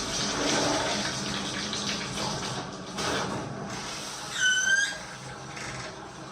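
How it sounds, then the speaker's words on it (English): Water runs and splashes steadily while rinsing a bathtub being cleaned before reglazing, a continuous broadband wash with a brief squeaky squeal near the end. "You should rinse it like thoroughly, so you're sure that all areas, all cleaned areas are washed and they're ready for painting."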